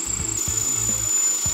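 A power drill bores a pilot hole through a fermenter for a chilling coil install, with oil on the bit, giving short, rhythmic grinding bursts separated by brief pauses under a thin, steady high whine.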